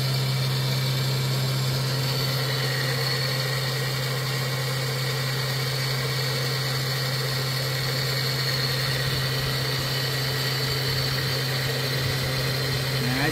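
A Taig BT30 CNC mill headstock driven by a 1200 W motor runs near 7,900 RPM, a loud, steady whine with constant droning hum throughout.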